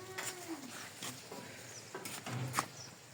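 On a dairy farm, a person imitates a cow with short low mooing calls, faint and broken up among scattered clicks and brief bursts of handling noise.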